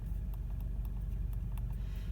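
Dashboard buttons in a Subaru BRZ give a series of light, crisp clicks at a quick uneven pace, faint over the low hum of the idling car.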